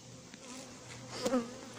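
Bees that were vacuumed up are let back out, giving a soft buzzing hum with a brief louder flyby near the end, faint and close, with no voices.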